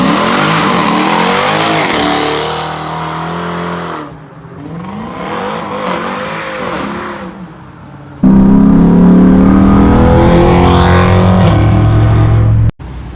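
Car with a cammed 5.7L engine, loud and close, revving repeatedly through rising and falling surges, easing off briefly before a hard sustained blast that ends in a sudden cutoff.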